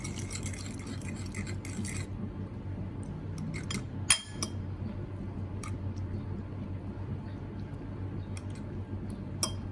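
Squid marinating in a bowl being stirred, with soft clinks and scrapes of a utensil against the bowl over a steady low kitchen hum, and a couple of sharper taps near the end.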